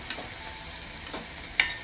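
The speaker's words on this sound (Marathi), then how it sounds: "जसा आपण तेलात कांदा परतवतो तसाच कांदा परतला जातोय" Onion sautéed in water instead of oil in a kadhai, a soft steady sizzle with a few sharper stirring scrapes against the pan, close and without talk.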